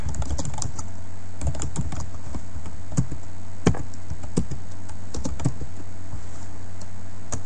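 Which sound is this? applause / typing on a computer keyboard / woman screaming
typing on a computer keyboard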